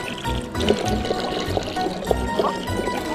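Water splashing and trickling from a public drinking fountain in Rome, close and steady with light pulsing gurgles under faint background voices.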